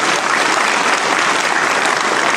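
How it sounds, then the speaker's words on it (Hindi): Loud, dense applause from an audience welcoming a guest at a cancer survivors day event at a Jaipur hospital, steady clapping filling the whole stretch without pause. "जोरदार तालियों से स्वागत।"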